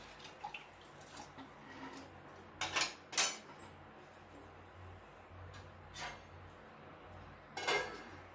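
A lid clinks onto a cooking pot of kandi pappu dal chaaru, with a few light metallic taps and clatters scattered over a quiet kitchen background.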